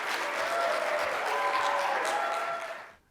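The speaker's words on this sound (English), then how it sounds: "let's give a very warm round of applause to Dallas Gudgell." Lecture audience clapping for a speaker, a dense steady burst of applause lasting a few seconds and then quickly fading out.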